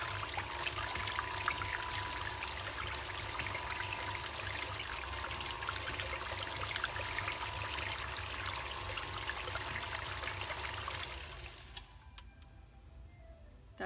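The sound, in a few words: pouring liquid cupcake ingredients together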